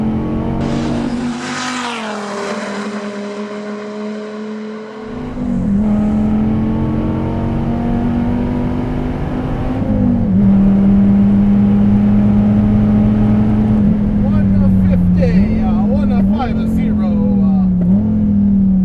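A Dodge Viper TA tuned by DSC Sport is driven hard on a track. Its engine roars loud and close, rising and falling through gear changes, with tires squealing and a voice talking at times over the engine noise.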